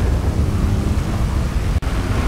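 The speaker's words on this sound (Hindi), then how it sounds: "अबे यार बारिश भी अभी होनी थी कसम से यार" Heavy rain and rumbling thunder in the video game GTA 5, a dense continuous roar of downpour with low rolling rumble throughout, briefly cut by a short dropout.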